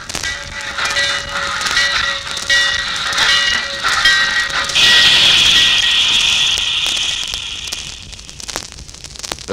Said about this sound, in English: The train pulled in.